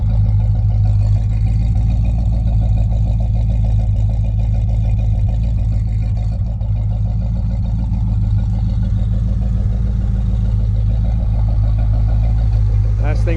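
A classic car engine idles at a steady, even low rumble for over thirteen seconds, heard up close, with no clear revving.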